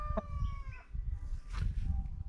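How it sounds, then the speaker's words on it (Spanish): A hen at a rural home clucks a few short times at a distance, quiet against a low rumble of background noise, with no talking. "Estamos viendo una gallina aquí."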